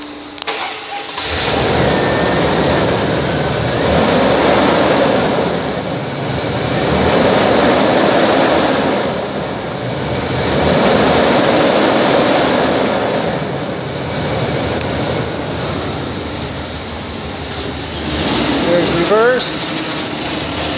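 A 1998 Dodge Ram Van 3500 with about 148,500 miles runs at a steady idle, a loud continuous drone that swells and eases slowly, with a voice speaking over it.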